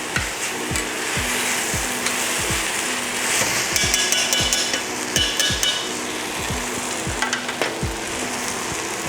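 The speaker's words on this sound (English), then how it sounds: "I'll just stir that for about a minute." Food sizzles loudly in a hot pan while a spoon or spatula strikes and scrapes the pan in a steady rhythm about once a second, close and continuous, with no talking.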